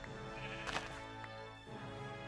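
A sheep bleating in the video game Minecraft, a single wavering bleat over a dense, steady layer of game music and ambience, moderately loud.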